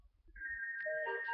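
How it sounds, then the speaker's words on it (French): A phone ringtone begins softly with a sustained electronic tone that grows into a brighter, layered melodic chime, heard alone and fairly close in a quiet room. "Attendez, il y a mon téléphone qui sonne."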